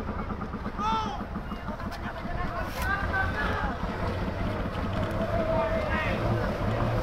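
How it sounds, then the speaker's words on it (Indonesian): Suction dredge ship operating at sea, a continuous low engine rumble with wind buffeting the microphone, while voices talk over it and a faint tonal whine rises now and then. "aktivitas kapal hisap"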